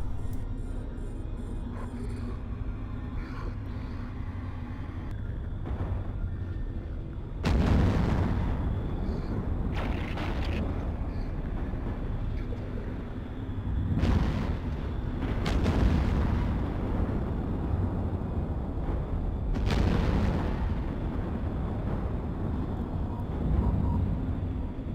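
Weapon fire from a ship in the space game EVE, loud broadband blasts recurring every few seconds over a steady droning hum, with several heavy booming bursts spaced through the stretch and no talking.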